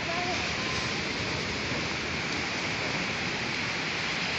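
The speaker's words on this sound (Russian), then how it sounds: "вам море, друзья. Оно плещется" Sea waves wash against the shore beside a night-time promenade in El Campello, Alicante, Spain, making a loud, continuous hiss of surf with no breaks, close and steady throughout.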